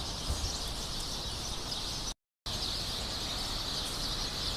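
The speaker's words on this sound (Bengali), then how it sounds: "ছোটো ছোটো পাখি কিচিরমিচির শব্দে মুখরিত করে রাখে।" Sparrows and other small birds chirp in a tree beside a mosque, producing a steady, dense wash of high twittering that is broken once by a brief dropout.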